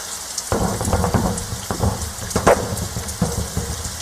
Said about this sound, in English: Oh, it's raining, Jim.